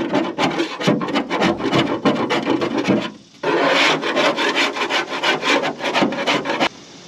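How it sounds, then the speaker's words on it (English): A scraper rasps repeatedly across old 3M sealant on a jon boat's transom, quick rhythmic close strokes with a short pause midway before the scraping resumes. "scrape some of this 3M sealant off"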